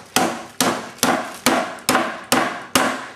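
A mallet pounds pork meat flat in steady, evenly spaced blows, seven sharp thuds with short ringing decay, loud and close with no voices.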